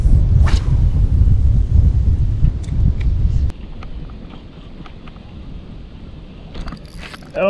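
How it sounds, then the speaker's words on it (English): Wind blowing hard outdoors on a fishing trip, a loud, rumbling gust buffeting the microphone for several seconds, then easing to a lower steady rush. "This wind is blowing."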